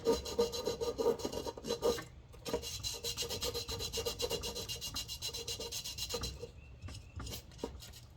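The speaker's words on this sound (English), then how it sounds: "Sand these down and we'll go brace these tubes on." Refrigerator compressor tubes on an LG fridge sanded by hand before brazing, a close, steady rhythmic rasping rub repeated for several seconds with brief pauses and no voices.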